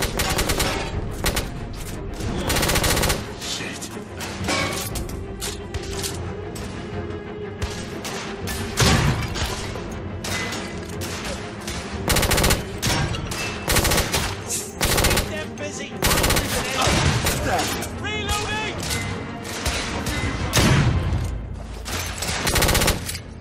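Rapid gunfire and heavy coach gun shotgun blasts in a dense, continuous firefight from the video game The Order: 1886, with loud overlapping bursts and impacts throughout.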